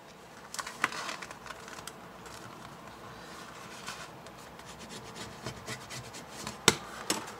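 Paper being trimmed from a folded card sample pocket, heard as close, quiet rubbing and scraping with a few soft taps and one sharper click near the end.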